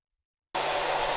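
A hair dryer switches on abruptly after silence and runs with a steady, loud, even whoosh, picked up close by a Rode NT USB microphone.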